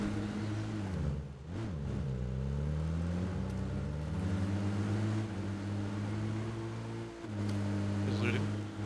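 Video-game vehicle engines drone steadily, their pitch rising and falling as they rev and shift, while voices talk over them almost the whole time.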